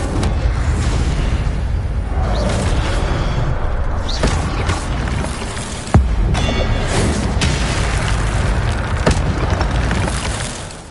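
The Incendio fire spell in Hogwarts Legacy unleashes a loud, continuous roaring blaze, a dense fiery whoosh with a sharp burst partway through that keeps surging without pause.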